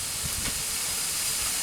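Water runs steadily from an outdoor kitchen sink faucet in windy weather, a constant broadband hiss of spray with a few low bumps, moderately loud and close.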